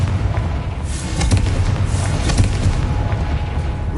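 A Confringo spell exploding in Hogwarts Legacy: a loud, continuous rumble of booming blasts and crackling bursts, with several sharp hits standing out against the heavy low roar.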